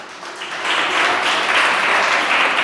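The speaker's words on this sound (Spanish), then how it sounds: "Un aplauso a Dios por la vida de Ángel," A church congregation applauds together, a dense steady wash of many hands clapping that swells after the first half second and holds loud to the end.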